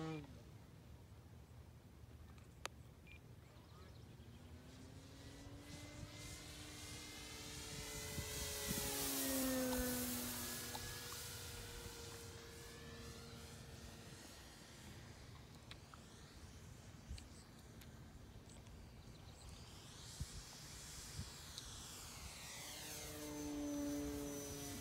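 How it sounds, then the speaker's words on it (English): An E-flite Timber X RC plane flying at about 65% throttle gives a whining electric motor and propeller drone that rises and falls as it passes overhead, heard from a distance with people talking nearby. "Prop just blew out. Motor blew out."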